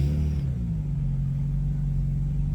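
A car pulling away and picking up speed, its engine bay warmed up first; a steady low engine rumble with droning harmonics holds close and continuous, with a brief higher whine at the very start.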